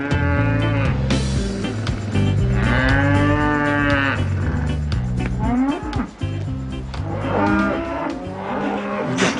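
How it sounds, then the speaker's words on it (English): Cows and calves mooing repeatedly while being driven down a track to the stockyards, several loud, drawn-out calls overlapping one another from close by with a herd murmur underneath. "Today he's bringing some cows and calves down to the yards."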